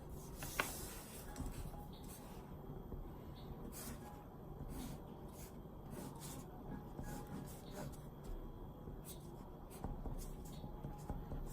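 Pen or pencil writing on paper, marking side lengths and areas on algebra tiles, a steady close scratching with short strokes and taps over a quiet room, no talk.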